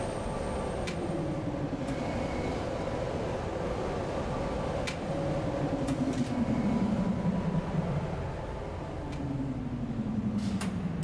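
A tram arriving in the video game Riven: a steady mechanical rumble with rising and falling whirring tones as it rolls in, plus a few sharp clanks along the way. There is no talking.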